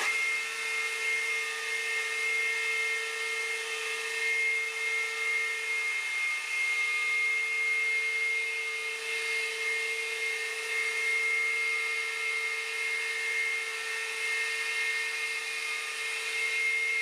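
A newly set up belt grinder runs continuously with a loud, steady high-pitched whine and a constant hum underneath, unchanging throughout with no voices.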